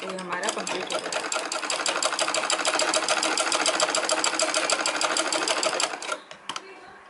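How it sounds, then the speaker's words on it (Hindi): Sewing machine running fast to stitch around the edges of a small cloth seat for a deity idol, a loud, close, rapid mechanical chatter that runs steadily for about six seconds and then stops. "इस तरह से चारों ओर से एक सिलाई लगा लेंगे"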